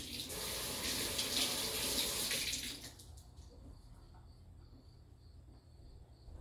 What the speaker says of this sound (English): Wash this lime.